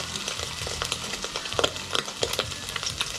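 Food frying in hot cooking oil: a steady, crackling sizzle with scattered sharp pops and spits, close and fairly loud, running continuously without talk.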